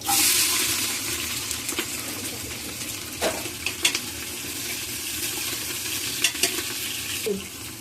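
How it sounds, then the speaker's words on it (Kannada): Chopped onion and green chilli frying in hot oil as a tempering for a Kannada head-and-trotters curry, a steady close sizzle with a few sharper clinks and stirring scrapes. "ಒಂದೆರಡು ಈರುಳ್ಳಿ ಹಸಿಮೆಣ್ಸಿಕಾಯಿ ಹೆಚ್ಚಿಟ್ಕೊಂಡಿದ್ದೆ ಅದು ಒಗ್ಗರಣೆಗೆ ಹಾಕ್ತಾ ಇದ್ದೀನಿ"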